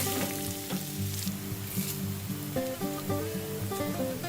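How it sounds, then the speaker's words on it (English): Chopped onion and dried red chillies frying over a medium flame, a steady moderate sizzle with occasional crackles and stirring scrapes, no voices. "The half onion that was chopped earlier goes in next. Let's fry this for a minute on a medium flame."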